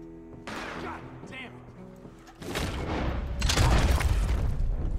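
Gunshots from a firearm in Red Dead Redemption 2, a sharp boom followed by heavier, louder blasts with rumbling tails, close and loud.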